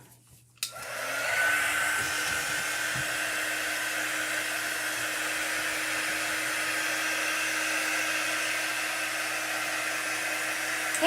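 A handheld hair dryer runs steadily at close range, drying a freshly applied chalk transfer on a reindeer ring craft project after a brief click and start-up, with a constant whooshing roar and faint steady hum throughout.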